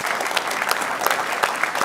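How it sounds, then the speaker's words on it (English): A live show audience applauds its guests with steady, dense clapping and scattered louder claps throughout, close and continuous with no speech. "And yeah, round of applause."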